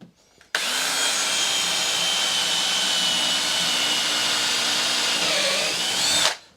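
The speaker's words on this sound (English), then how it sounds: "I'm going to drill through at an angle. So I'm going to put one pilot hole here." A power drill whirs steadily at high speed for about six seconds, boring an angled pilot hole in wood for boat seats, starting and stopping abruptly, loud and close.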